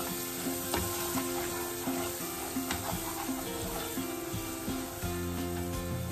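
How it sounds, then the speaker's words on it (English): Sizzling masala for mutton liver curry is mixed in a hot pan, with a continuous crackling fry and repeated scraping strokes of the spoon, close and steady. "Now my masala is ready. So now mix it again."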